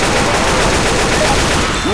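Dense, continuous gunfire from the video game Left 4 Dead 2 on a haunted forest custom map, a loud steady rattle of rapid shots filling the whole stretch with no pause.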